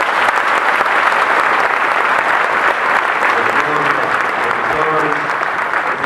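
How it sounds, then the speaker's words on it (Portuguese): Steady, loud applause from a large audience at a church congress, continuous clapping for several seconds as speech fades in underneath near the end. "Por isso também peço palmas aos nossos reitores do Instituto."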